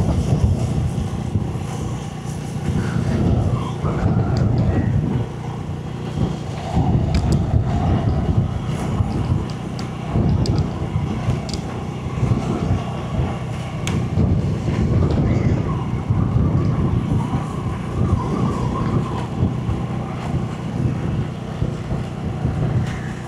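Steady wind buffets the microphone outdoors by the sea at Mandativu island near Jaffna, Sri Lanka, a constant rumbling gusty roar with a faint boat motor underneath.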